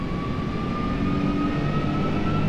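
Airbus A330 jet engine heard in a flight simulator game, a steady loud roar with a high whine held on top, continuous and unchanging with no talk.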